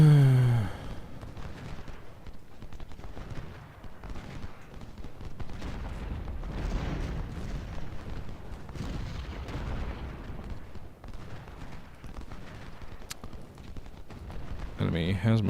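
Civil War artillery fire at the Battle of Antietam in the strategy game Ultimate General: Civil War, repeated distant booms and rolling gunfire under someone talking.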